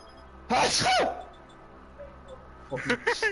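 A single loud, close sneeze bursts out suddenly with a sharp intake and explosive release, followed by faint background sounds and a brief burst of voice afterward.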